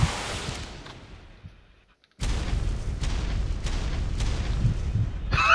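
Gun fired at the roof of an old junk car: a dying rumble fades to near silence, then a sudden loud blast erupts and its heavy rumbling noise persists to the end.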